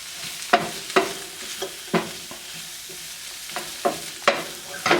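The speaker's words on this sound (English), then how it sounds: "And then we're going to throw our lemongrass in here. Stir it up well." Lemongrass is stirred into tofu sizzling in a pan, with sharp spatula scrapes and taps against the pan at an irregular rhythm over a soft, steady frying hiss, heard up close.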